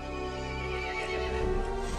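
In the horror video game Resident Evil Village, a horse gives a loud, close whinny lasting about two seconds, heard alone over dark ambient background.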